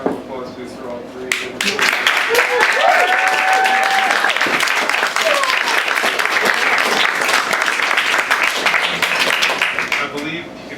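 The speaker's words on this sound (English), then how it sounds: "Another round of applause, please, for all three." An audience at a Grolier poetry reading breaks into a full round of applause, loud continuous clapping from a crowd with faint voices beneath, rising after a brief pause and holding strong to the end.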